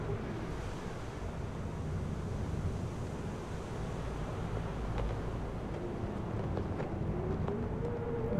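Steady, loud wind blowing across a snowy Antarctic setting in the video game Conarium, a continuous broadband roar that swells slightly and carries no speech.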